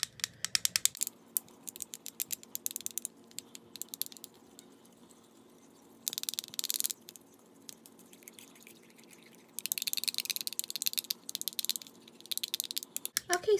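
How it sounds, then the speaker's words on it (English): Soap slime being stirred in a container, giving bursts of sticky, clicking squelches and bubbly crackles that come in several stretches between quieter pauses, close and fairly soft. "now I'm just going to get mixing it up"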